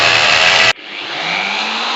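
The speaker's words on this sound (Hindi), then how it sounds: "सिर्फ ड्रिल कर रहे हैं।" Electric drill boring into a house wall: a loud, close whine that cuts off abruptly, then a quieter motor sound rising steadily as it spins back up.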